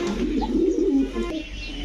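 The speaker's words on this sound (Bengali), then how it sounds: "রাশেদ ভাই দেখেন কি সুন্দর মাশাল্লাহ পুরো প্রেমে পড়ে যাওয়ার মতো একটা কবুতর" A domestic pigeon kept among breeds such as beauty, racer and king coos close by in low, throaty, rolling phrases that run almost continuously and stand alone without talk.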